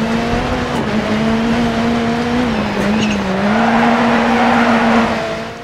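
Rally car sliding on a track in DiRT 4, a loud, steady engine drone with a wavering pitch and tire noise as it drifts, with no talk heard.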